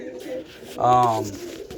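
A roller pigeon in a breeding loft gives a single short, close coo, with someone speaking quietly around it.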